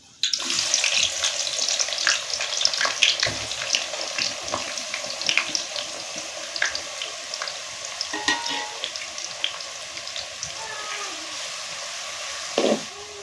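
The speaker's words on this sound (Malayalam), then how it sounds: "എണ്ണ ചൂടായ ശേഷം ഒരു സവാള എരിഞ്ഞത് ഇട്ട് കൊടുക്കുക." Sliced onion fries in hot coconut oil in a pan, a continuous close sizzle and crackle with scattered stirring clicks and a brief louder scrape near the end, no talk.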